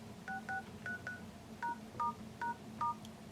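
A ZTE V987 phone keypad beeps out DTMF tones while an engineering menu code is entered: eight short, clear two-tone beeps in an uneven rhythm over faint background noise.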